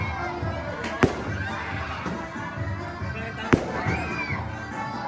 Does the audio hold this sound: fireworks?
yes